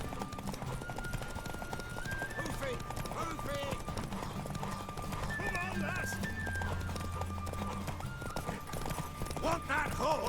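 Rhythmic clip-clop of a galloping horse with an occasional whinny in the video game The Witcher 3: Wild Hunt, under a steady music bed and a voice talking.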